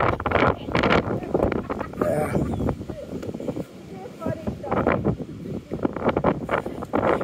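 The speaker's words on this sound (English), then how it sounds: "Very windy right here." Strong wind buffets the microphone on a blustery town street in Hartland, New Brunswick, producing loud, uneven roaring gusts, with a voice speaking underneath.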